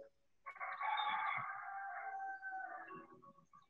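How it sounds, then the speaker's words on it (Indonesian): A rooster crows once with a long, drawn-out call, fairly close, from chickens kept in a netted enclosure in a home garden where they scratch and eat the grass. "Jadi ayam ini menghancurkan rumput cukup cepat ya."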